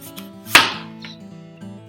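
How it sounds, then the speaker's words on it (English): A knife slices the top off an apple in one crisp cut near the start, standing out over a soft, steady tonal background. "So I'm just going to cut off the top."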